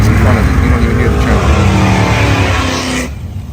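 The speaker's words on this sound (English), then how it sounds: "You hear the Camaro that's in front of it." A Chevrolet Camaro muscle car at a drag strip roars with a loud, sustained engine growl and exhaust rumble that continues steadily before suddenly thinning out near the end, with a crowd murmuring in the background.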